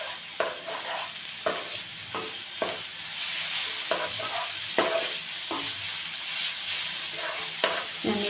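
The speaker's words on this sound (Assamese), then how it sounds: "এতিয়া ভালদৰে লৰাই দিম" Chutney with jaggery, salt and chili powder being stirred with sugar in a pan, a soft steady hiss broken by regular scraping strokes of the spoon, close and without speech.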